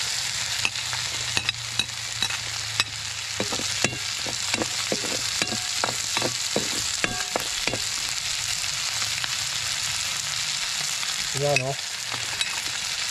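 Ingredients for chicken afritada sauté in a little oil, producing a bright, steady frying crackle with a run of sharp spoon clicks against the pan and a brief voice near the end.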